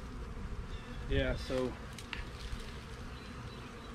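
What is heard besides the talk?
honey bees buzzing around hive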